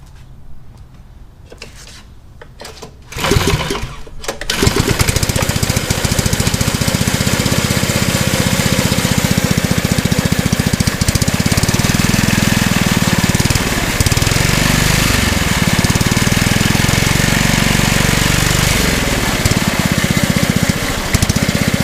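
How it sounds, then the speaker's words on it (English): An American Sportworks Black Widow go-kart engine with a faulty slipping torque converter clutch sputters briefly, then roars loudly and steadily at high revs with rhythmic surging. "I'm going to crank it up and show you how the clutch is not working"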